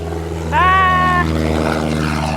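A small propeller airplane drones steadily at a distance during takeoff, while a brief voice rises over it near the start.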